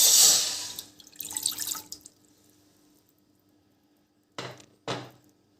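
A short splash of one cup of water pours into a pan of strained watermelon rind for syrup, trickling off, followed after a pause by two quick knocks.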